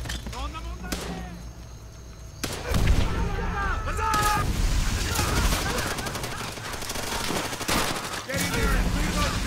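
Call of Duty: World at War combat erupts with rapid gunfire, bursts of automatic fire and heavy grenade explosions, dense and loud throughout, while a voice shouts over the battle.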